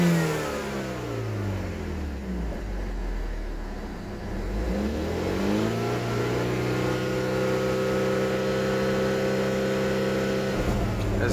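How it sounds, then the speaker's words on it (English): BMW E89 convertible, a 2016 model, revving its engine, the pitch dipping and then climbing into a steady higher drone, close and fairly loud with no talk. "Rev it a little."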